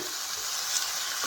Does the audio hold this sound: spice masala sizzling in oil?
yes